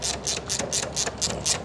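A ratchet clicks in quick repeated bursts while tightening screws during a frunk installation on a Hyundai Ioniq Electric, about seven short ratcheting strokes, close and fairly quiet.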